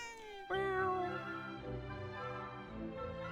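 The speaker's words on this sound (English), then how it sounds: "Gotta pet the kitties." A single drawn-out cat meow from the Dragon Quest VII Reimagined video game, a clear rising then falling call that trails off over soft game music, fairly faint.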